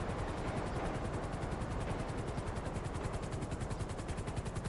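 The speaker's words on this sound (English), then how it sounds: "If it's your first time doing it, you gotta listen to that helicopter" A luxury helicopter in GTA Online hovers or flies with a fast, even rotor thump and a broad whooshing drone, steady and fairly close throughout.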